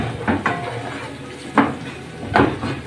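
Onion frying in a pan and being stirred, a close soft sizzle broken by a few scraping utensil strokes against the pan.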